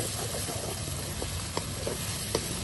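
Tomatoes sizzling and frying in a pan as they are roasted, a steady dense crackle with a few sharper pops and light stirring scrapes, close and continuous.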